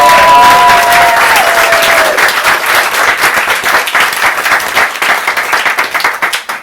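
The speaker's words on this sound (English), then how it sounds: "Can we give her a round of applause?" Audience at an open-mic poetry evening at the White House applauds a poet, dense sustained clapping from many hands at close range, thinning slightly toward the end.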